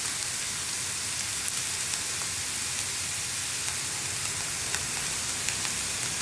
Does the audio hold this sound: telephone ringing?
no